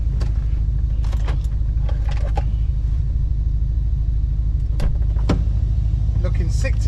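Car engine rumble inside a moving car, likely an Audi RS4 or Bentley, heard as a steady low drone from the cabin with occasional clicks and knocks over it.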